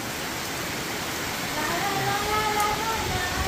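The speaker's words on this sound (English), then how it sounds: "it's another rainy day today." Steady rain falls on a rainy day in the Philippines, an even, moderate hiss that thickens slightly partway through, heard alone without talk.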